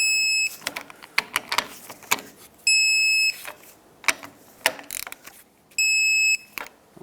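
A torque wrench set to 30 foot-pounds, used on the bolts of a strut leveling kit spacer for a 2009-2014 Ford F-150, sounds three short, loud electronic beeps amid close clicking and ratcheting.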